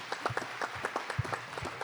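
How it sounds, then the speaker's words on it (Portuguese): A small audience at a talk show claps in a sparse, uneven patter, a handful of hands close by and fairly soft, over a couple of seconds. "Vamos aplaudir, gente?"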